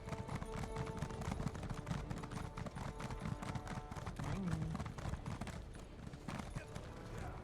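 A horse trots in the Elder Scrolls Online game, its hooves clip-clopping in a fast, steady rhythm on a hard surface. The sound is close and continuous, and a brief neigh breaks through partway.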